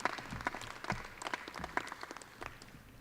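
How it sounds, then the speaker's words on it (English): A dairy show crowd at the Kentucky State Fair gives a round of applause for heifers and their exhibitors. The clapping is thin and scattered, with uneven bursts that stay at moderate volume throughout. "Let's give these heifers and exhibitors another big round of applause"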